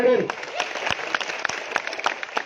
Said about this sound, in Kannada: ಇನ್ನೊಂದು ಜೋರಾಗಿ ಚಪ್ಪಾಳೆ ಹೊಡೆಯಿರಿ